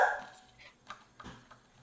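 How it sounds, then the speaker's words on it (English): A dog barks and yips in short, scattered bursts, one louder near call at the start and then fainter intermittent yaps, with no talking. "Is that cute dog making all that noise?"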